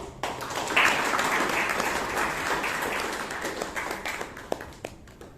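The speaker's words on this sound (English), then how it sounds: "A round of applause to you." Members at a Toastmasters club meeting in Bangalore give a round of applause for their new club president, with close, crisp individual claps over a lively, sustained patter that tapers slightly toward the end.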